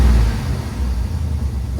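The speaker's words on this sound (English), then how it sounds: "So I'm gonna go in there and rev it real quick, see what it sounds like for y'all." A Chevrolet Tahoe V8 tuned for E85 fuel with an eBay cold air intake revs briefly up close, a loud steady low rumble with intake noise for under two seconds.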